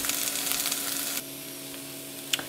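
Vegetables sauté in a hot pan for Jamaican brown stew fish, a steady loud sizzle with light stirring that drops to a quieter crackle partway through, with a brief clatter near the end and no talking.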